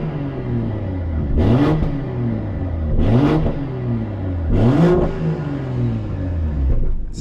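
A 2022 BMW M240i fitted with a Cobra axle-back exhaust, valves removed, revs hard three times in a row, each loud close blip rising and falling back to a deep idle, with no one talking.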